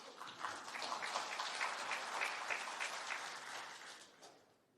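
An award ceremony audience applauds, a dense, even patter of many hands that holds steady and then fades out at the close.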